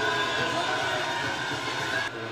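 A boxing arena crowd cheering and roaring ahead of the Canelo vs Chavez Jr fight, a steady, loud wash of distant voices and whistles that drops off abruptly near the end.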